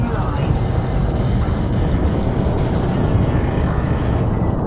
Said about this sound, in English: Thrusters online.